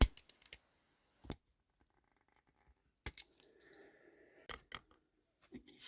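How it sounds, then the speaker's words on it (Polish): Small scissors on a vintage pocket knife snip a few times, in sharp, isolated metallic clicks separated by quiet gaps, close and fairly faint. "No, nożyczki sprawne."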